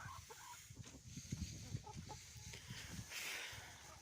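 Crested chickens cluck softly and repeatedly nearby in a low, quiet murmur, with occasional sharper calls over faint background noise.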